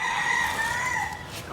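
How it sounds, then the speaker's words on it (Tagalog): A rooster crows once nearby, a loud, drawn-out call with a clear rising and falling pitch, heard beside an auto repair shop. "Shoutout nga pala sa mga manok dyan."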